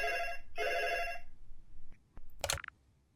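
A telephone rings in the 7 Night Keeper horror game demo: two loud, bright ringing bursts, then near-silence broken by a few faint clicks and a short electronic chirp.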